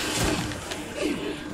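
Zombie dogs snarl and growl in the video game Resident Evil 6, a short, loud, rough burst of roaring with no speech.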